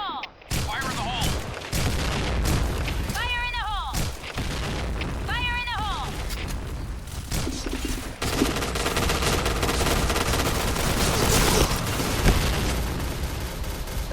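Rapid automatic rifle fire from an XM7 in the shooter game Point Blank, loud bursts and booms filling the clip, with game sound effects and brief tonal chirps mixed in.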